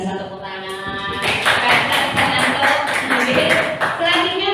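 Dense applause from an audience at a school teachers' gathering fills the room after a short lead-in, steady hand clapping continuing to the end with voices mixed underneath.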